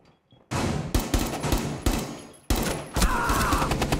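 Gunfire in the video game Rainbow Six Siege, a loud near-continuous fusillade of rapid automatic shots in bursts over a few seconds, with no talking over it.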